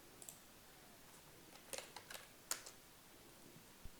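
Quiet, scattered keystrokes on a computer keyboard during JavaScript coding, a few separate clicks and short bursts with no talking.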